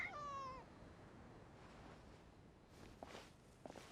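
A passing cat in the Genshin Impact video game gives one short, quiet meow at the start, followed by faint soft steps and light rustling in a hushed scene.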